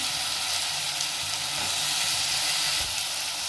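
Boiled potatoes, peas, spring onion and coriander sizzle in hot oil in a pan, a steady close crackling hiss with a few light stirring scrapes and no talk.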